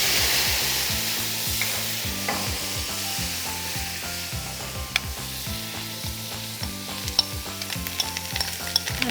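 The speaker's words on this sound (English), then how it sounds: "Now we will saute the rice, all this." Rice for a shrimp coconut punch sautéed in a hot pan gives a close, continuous sizzle with repeated stirring scrapes and clicks throughout, with no one speaking.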